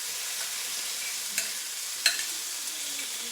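Zucchini, onions, garlic and peppers sizzle in a pan with half-cooked potatoes, giving a steady hiss broken by a couple of sharp crackles and pops, with no voices.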